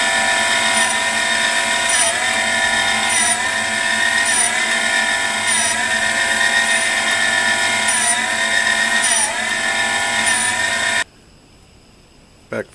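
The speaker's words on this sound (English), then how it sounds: "Get it in the grinder." A grinder runs steadily on a workpiece, a loud close continuous whine with regular pulsing dips in pitch, then cuts off abruptly near the end, leaving quiet.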